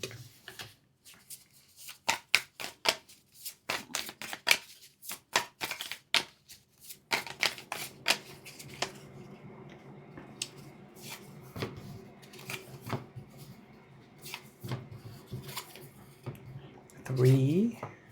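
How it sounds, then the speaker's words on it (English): Board game cards from Perch being shuffled on a table, a run of quick crisp riffling bursts early on, then lighter handling and card placement, with a person talking over parts of it. "Shuffle and arrange them like that."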